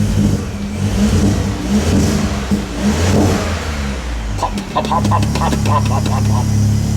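A turbocharged VW Up! GTI engine runs loudly and close, rising and falling through several revs, then settles into a rough, pulsing idle.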